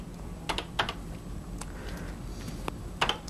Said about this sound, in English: Next, let's start with typing this program in.